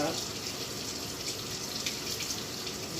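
Tap water runs steadily into a kitchen sink while a beefsteak tomato is rinsed and rubbed under the stream, a constant close hiss with no talk over it.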